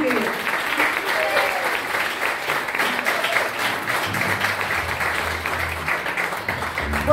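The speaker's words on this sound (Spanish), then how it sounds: "para quien pido un fuerte aplauso" Sustained audience applause fills a harp orchestra concert in a hall, a dense wash of clapping with voices mixed in, steady throughout.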